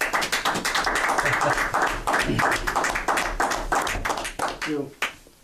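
A small group claps at a village trustees meeting, uneven distinct handclaps rather than a full roar, with voices talking over and around them before the clapping trails off.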